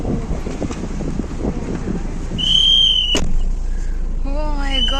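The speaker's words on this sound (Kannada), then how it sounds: "ಬಿಸಿ ಗಾಳಿ ಹೊಡಿತಿದೆ" Hot wind gusting outdoors after stepping out of air conditioning near Tirupati, a steady low rumble against the microphone, joined partway by a brief whistle-like tone and a sharp knock.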